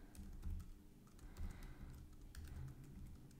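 Someone types steadily on a computer keyboard in a Python interpreter, with soft, close clicks in an irregular rhythm and no talking.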